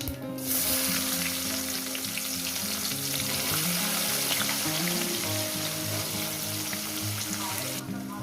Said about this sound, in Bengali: পাঁচ মিনিট ধরে ভেজে নেব যেহেতু অনেকটা পেঁয়াজ একটু ভাজতে সময় লাগবে